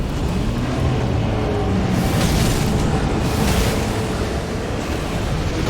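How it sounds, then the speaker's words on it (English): Rumbling, booming ground explosions in Elden Ring's Rykard fight, a dense continuous roar with heavier bursts swelling around the middle, loud and unbroken throughout. "That seems to be some sort of ground explosions again."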